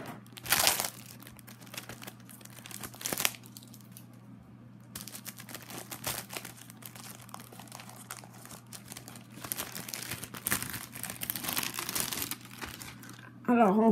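Plastic packaging around diamond painting notebooks being opened, with scissors also on hand, crinkling in close bursts with quieter handling and rustling between.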